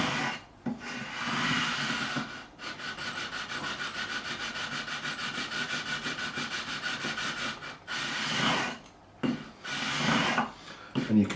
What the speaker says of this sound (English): we're maintaining the radius, but we're removing material, smoothing off those frets